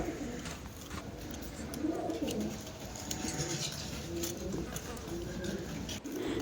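Pigeons coo in low, soft, repeated murmurs over a steady background hum, several birds overlapping close by.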